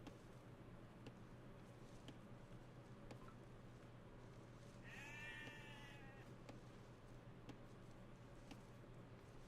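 A single sheep in the Age of Empires II video game gives one clear wavering bleat midway, set against a steady, faint low ambient hum.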